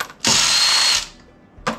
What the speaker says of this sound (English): So now I can take my drill driver